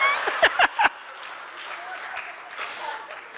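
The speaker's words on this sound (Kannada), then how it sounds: "ಇದಕ್ಕೆ ಚಪ್ಪಾಳೆ ತಟ್ಟಬೇಕು ನೀವು" A few sharp hand claps ring out in quick succession at a comedy show by Master H. Dundiraj for the KCO Brindavana 20th anniversary, then fade into a faint, murmuring room.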